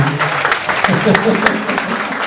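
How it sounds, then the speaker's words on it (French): An audience at a youth congress in Kindu breaks into applause, a dense burst of clapping mixed with cheering voices throughout the short stretch. "Applaudissez quand même."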